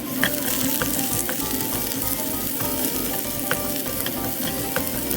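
Garlic and onion frying in a pan give a steady, close sizzle with faint clinks of stirring scattered through it. No one speaks.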